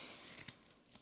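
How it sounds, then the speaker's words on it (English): Scissors snipping through ribbon up close: a faint, quick pair of crisp cuts with a soft blade scrape, quiet and alone. "So let me just cut it to measure"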